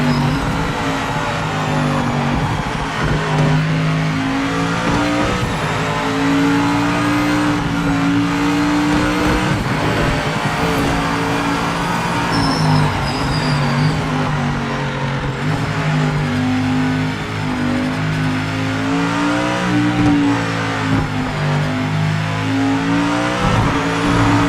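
A race car engine in the sim racing game Project Motor Racing drones loudly and continuously, its pitch rising and falling as it revs through gears, with no talking over it.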